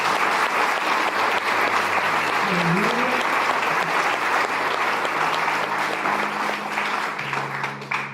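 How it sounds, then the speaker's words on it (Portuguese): A church congregation applauds in a dense, steady wash of clapping that carries on for several seconds, with a voice speaking and a brief sung or called note heard under it. "Eu gostaria que vocês aplaudissem o Senhor."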